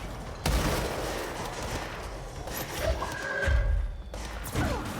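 Gunfire in the video game Control: a sharp shot followed by a dense rumbling burst of impacts and a later heavy thump, loud and close, with game effects layered around it.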